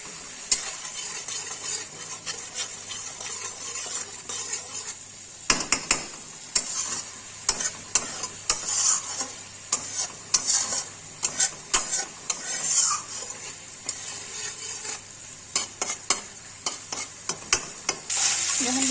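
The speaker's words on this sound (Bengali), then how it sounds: "আমার মশলা ভাজা হয়ে গেছে" Spices frying in a pan for a Bengali cabbage dish with fish head, a continuous sizzle with frequent scraping and clinking of a spatula stirring against the metal.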